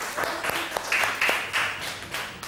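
Children in a classroom give their classmates a short burst of clapping, a few scattered, uneven handclaps over roughly two seconds with faint voices in the room.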